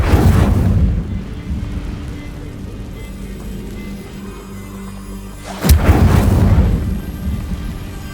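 Incendio fire spell cast in Hogwarts Legacy: a sharp whooshing burst flares up suddenly and loudly, followed by a roaring crackle that fades over a few seconds against a low rumbling game ambience.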